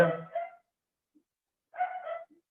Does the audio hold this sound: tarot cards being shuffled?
no